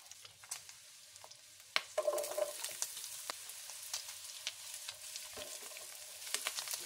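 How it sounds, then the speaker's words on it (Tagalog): Pork fries in its own rendered fat, then onion and garlic go in to sauté, a soft constant sizzle broken by sharp clicks of a utensil and a brief louder hiss as the ingredients hit the pan. "igisa na natin ang sibuyas at ang bawang"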